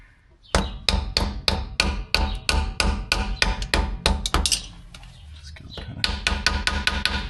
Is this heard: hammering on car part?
yes